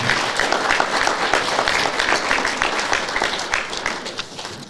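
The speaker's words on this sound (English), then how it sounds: "Let's have a nice round of applause for him." A room full of people at a Hall of Fame press conference applauds steadily, a dense, close wash of clapping that holds strong then begins to taper at the end.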